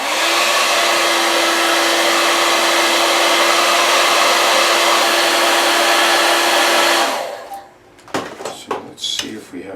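A heat tool blows hot air steadily on a glued part of a Gibson SG Standard guitar, a loud even whine with a hiss that cuts off after about seven seconds, followed by a few clicks and knocks.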